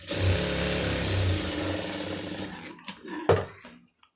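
A sewing machine stitches cloth in one continuous loud run that slows and stops, followed by a few scattered clicks and handling knocks before silence.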